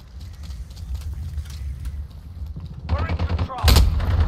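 Gunfire in Call of Duty: Modern Warfare during a hardcore team deathmatch on the Crash map, with rapid bursts of shots near the end over a low rumbling game soundscape.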